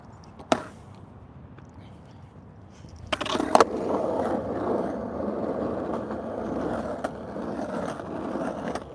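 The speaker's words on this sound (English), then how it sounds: "It's like ollie up, front 180 off." Skateboard trick during a live session, an ollie up onto an obstacle and a frontside 180 off: a sharp tail pop, then loud board impacts and a steady rolling grind of wheels that continues afterward, with no talking.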